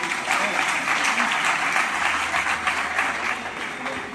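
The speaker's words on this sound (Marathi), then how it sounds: "जोरदार टाळ्या त्यांच्यासाठी" A festival audience gives loud, continuous applause for a bansuri flute recital, the clapping dense and steady throughout while a voice murmurs faintly underneath.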